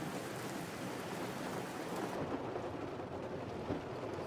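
Steady heavy rain pours down through a thunderstorm, a constant close wash of noise with a faint low rumble of thunder underneath.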